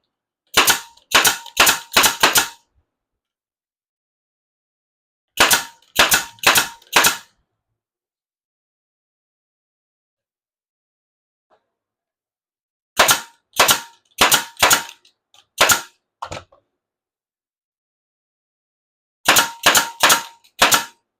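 A nail gun fires into cedar sandbox boards in loud, sharp bursts of four to six rapid shots, each burst separated by several seconds of silence, with no voices.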